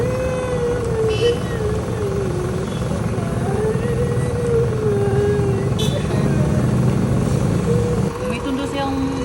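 A motorcycle engine runs steadily close by during a test ride, its drone continuous throughout with a shifting pitch as it revs, while people talk over it.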